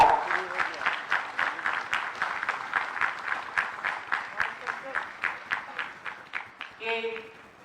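Audience claps rhythmically in unison at a government ceremony in Ranchi, a regular beat of roughly two to three claps per second lasting several seconds, ending in a short burst of noise.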